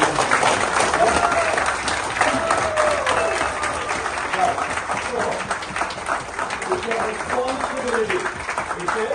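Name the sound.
audience applause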